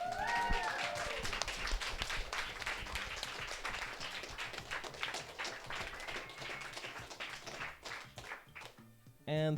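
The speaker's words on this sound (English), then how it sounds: "I don't know if the people on the Twitch can hear the clapping" An in-person audience at a live event applauds in a dense, sustained wash of hand claps with a few louder close claps, fading toward the end before a voice cuts in.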